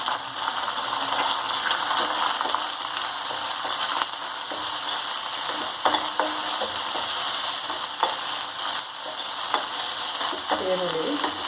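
Chopped onions sizzle and fry in a pan for an eggplant palya, a steady crackling hiss with occasional clinks and stirring scrapes, no one speaking.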